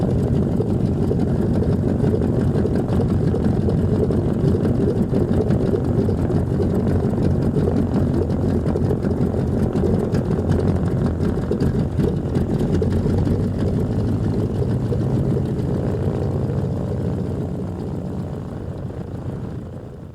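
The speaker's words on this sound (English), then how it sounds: "the only thing better than the sound of a round aircraft engine is a sound from two" A classic Lockheed aircraft with two radial engines runs loud and close for about twenty seconds, a dense, steady propeller roar and deep rumble that eases off slightly at the very end, with no talking.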